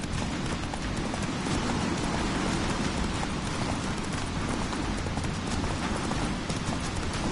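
Roach, a horse in the video game Witcher 3, gallops with a dense, fast, continuous drum of hoofbeats, loud and close throughout the stretch.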